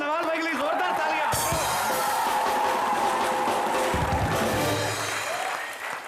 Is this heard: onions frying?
no